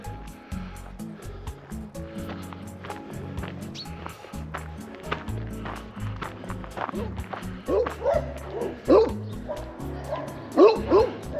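Several big dogs bark at a house in the Ibizan countryside, a busy chorus of repeated barks and yips that grows louder and closer toward the end over steady outdoor background noise.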